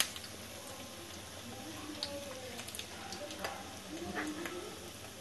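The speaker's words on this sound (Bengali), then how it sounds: "আমার চপগুলো একদম সুন্দর কালারে ভাজা হয়ে গেছে, আমি একে একে তুলে নিচ্ছি" Vetki fish chops frying in hot oil, a steady soft sizzle with small crackles and occasional clinks as the browned chops are lifted out one at a time.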